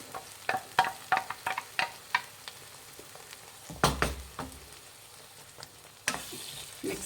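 Thick ground masala paste for Hyderabadi chicken masala frying in a pan, stirred with a spoon: a run of sharp scraping clacks over a soft sizzle, a louder stir burst midway, then steady sizzling with scattered scrapes.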